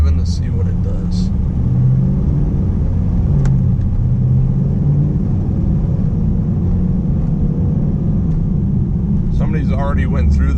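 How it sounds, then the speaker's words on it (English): An LS3-swapped Pontiac G8 GT on the street gives a steady, deep engine rumble from inside the cabin that continues throughout. Brief voices are heard near the start and end. "Just going to do a little bit of driving to see what it does."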